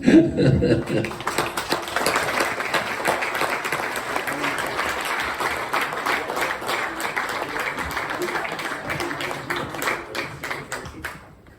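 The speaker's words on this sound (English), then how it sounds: "On peut applaudir encore les 28 nominés" Hall-wide applause at a Cap Horn Hall of Fame ceremony in Les Sables d'Olonne honouring 28 nominees: sustained, dense clapping from a large audience lasting about eleven seconds, swelling at first and then fading out at the end.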